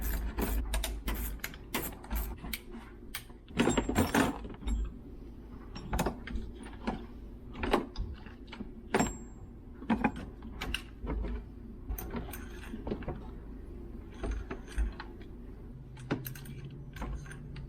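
Ratchet wrench working spark plugs out of a turbocharged Toyota Corolla engine, heard as irregular close clicks and metallic ticks with clinks of tools, steady and fairly quiet, with no talking.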